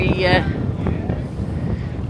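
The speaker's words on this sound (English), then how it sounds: "It's quite windy today" Wind buffets the microphone on a choppy sea during an island-hopping boat trip in the Philippines, a loud rough roar with gusty swells, while a person talks over it.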